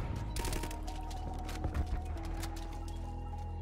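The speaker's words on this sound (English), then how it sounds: "Teammates just wanting to shoot at me." Rapid gunfire bursts crackle loudly in a first-person multiplayer shooter game, dense overlapping shots with a sustained tonal hum underneath and no speech.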